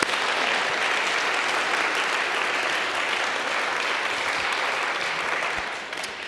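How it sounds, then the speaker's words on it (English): A congregation applauds everyone who helped make the church service happen, just before the closing hymn. Broad, sustained clapping fills the room evenly and fades slightly at the end. "Let us give a round of applause to all that made this service what it is."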